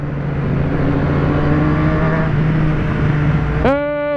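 A three-cylinder Yamaha motorcycle engine idles with a steady, loud throb, then near the end is revved sharply in a quick rising burst.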